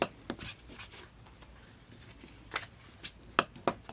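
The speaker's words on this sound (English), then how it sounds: "score it a half, rotate around, score it a half, fold down and burnish" Paper being scored, folded and burnished for an accordion folio: quiet scattered scrapes, rubs and soft taps close by, with no talking.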